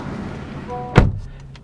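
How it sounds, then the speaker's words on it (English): The door of a 2022 Honda Civic EX is pulled shut from inside with a single solid thump, heard over a faint cabin hum that drops away after the door closes. "reaching over here to shut the door"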